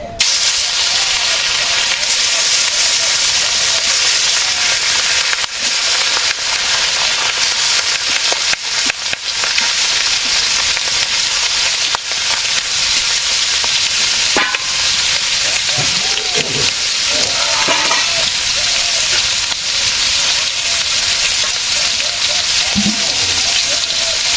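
Rohu fish frying in a pan in a village kitchen, a loud, steady broadband sizzle and hiss running throughout with a few faint clinks and brief voice fragments underneath.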